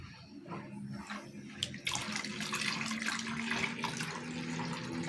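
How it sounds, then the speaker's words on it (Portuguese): Cold water pours steadily into a container while homemade liquid soap is being made from a shine paste, a continuous close splashing rush that starts softer and grows fuller partway through, with no talking. "Aí eu já vou colocando aqui água gelada."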